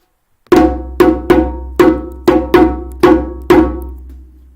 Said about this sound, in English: A break, a call, a signal to start the rhythm and to finish the rhythm.